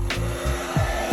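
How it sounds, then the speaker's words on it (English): A hair dryer blows steadily at close range, heating the display of an iPhone XS Max during a screen replacement, with a broad airy whoosh and low hum and no talking. "take any hairdryer and heat the surface of the display for 1 or 2 minutes"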